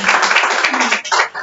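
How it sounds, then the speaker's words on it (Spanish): Congregation applause at a church service led by a pastor, a dense steady patter of many hands clapping throughout, fairly loud and close, briefly dipping near the end. "¿Cuánto le dan un aplauso al Señor?"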